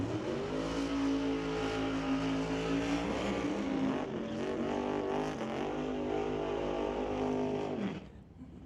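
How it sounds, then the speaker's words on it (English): Drag racing doorslammer cars doing burnouts give a loud, sustained engine roar with steady high revs, holding for several seconds before easing off near the end, with no speech. "Next pair completing their burnouts, Dave Warren, the 1962 Chevy Bel Air"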